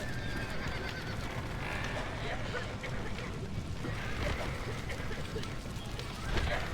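Horses in the Red Dead Redemption video game whinnying and clip-clopping amid dense, steady game ambience, with a person talking faintly over it.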